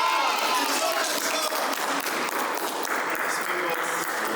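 A studio audience gives dense, sustained applause for the winner of a dating game show, loud and continuous throughout with no break.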